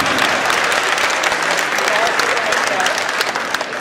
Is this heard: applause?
yes